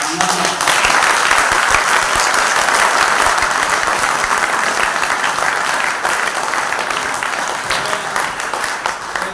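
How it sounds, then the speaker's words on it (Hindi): Students in an assembly hall give the vice-chancellor loud, sustained applause at a Sanskrit Day seminar, a thick roar of many hands clapping close and steady, easing only slightly toward the end. "इतनी जोर से तालियां बजाओ"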